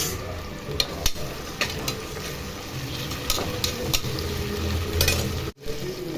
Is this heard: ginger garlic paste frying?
yes